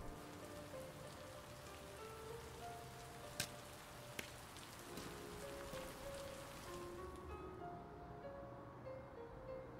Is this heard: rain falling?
yes